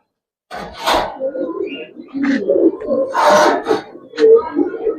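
Pigeons coo and murmur close by while several people talk over them in a busy, cluttered pigeon market.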